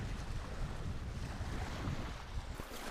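Two-foot whitecapped lake waves wash against a wilderness shoreline in a continuous rushing surge, mixed with heavy wind buffeting the microphone, fairly close and with no voices.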